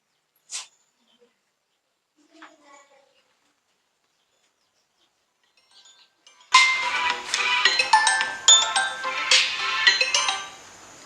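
A phone rings with a loud, close electronic ringtone melody after a few faint, sparse sounds in otherwise near silence.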